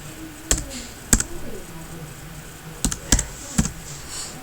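Keys struck on a computer keyboard while entering a payroll voucher in Tally accounting software; a handful of sharp, separate clicks close by over a faint background murmur, sparse and irregular.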